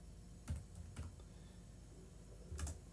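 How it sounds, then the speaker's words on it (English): Values being typed on a computer keyboard, a few faint, sparse key taps and clicks in a quiet room, close by. "So I'm going to type in the values"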